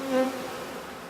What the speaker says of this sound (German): Schwer beladen und nur mit viel Mühe erreichen die Bienen ihren Stock.